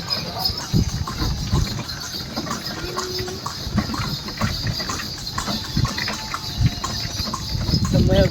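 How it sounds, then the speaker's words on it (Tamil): A horse-drawn cart rolls through a model heritage village in Bengaluru, the horse's hooves clip-clopping irregularly under a steady wash of outdoor noise, with scattered sharp knocks from the cart. "குதிரை வண்டி சவாரி போயிட்டு வரோம்."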